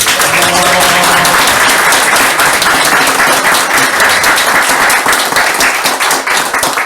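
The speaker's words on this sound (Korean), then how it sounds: "박수 한번" Loud, close applause from a concert audience at an autumn concert, with dense clapping that holds steady for about seven seconds while a few voices murmur underneath early on.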